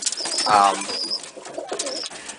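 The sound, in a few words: pigeons cooing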